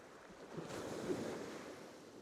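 Soft surf washes in and out on a beach with a gentle rush, steady and fairly faint, under light wind noise.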